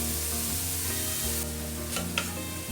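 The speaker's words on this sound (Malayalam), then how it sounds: "ഇനി ഹൈ ഫ്ലെയിമിൽ വെച്ച് കൈയെടുക്കാതെ റൈസ് നല്ല ഫ്രൈ ആവണ വരെ മിക്സ് ചെയ്ത് കൊടുത്തുകൊണ്ടിരിക്കുക." Cooked rice stir-fried over a high flame for chicken fried rice, giving a steady, close sizzle with continuous scraping and tossing in the pan, and no talk.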